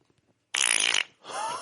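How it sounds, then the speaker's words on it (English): A loud, wet fart in two close bursts: a sustained, rasping blast about half a second long, then a shorter, fluttering second burst after a brief pause. "That's a Taco Bell fart."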